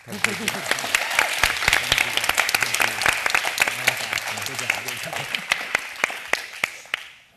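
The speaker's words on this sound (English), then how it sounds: "Can we just have another round of applause for all our panelists?" An audience at a public teen panel event applauds its panelists: a steady wash of many hands clapping, moderately loud and lasting several seconds before tapering off, with a voice talking over it.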